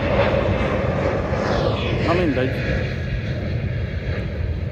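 Airplanes pass over near an airport, a loud, steady roaring drone filling the air with a rising and falling engine whine, while someone speaks briefly underneath.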